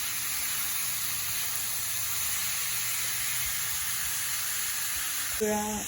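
Chana dal with spices frying in a pan, a loud continuous sizzle and hiss that holds steady throughout, with a short burst of voice near the end.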